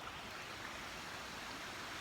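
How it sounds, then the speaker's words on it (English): A river in the south of France, swollen after heavy rain and running down from the hills, makes a steady, soft, continuous rush of flowing water with no voices. "You can hear the river behind me."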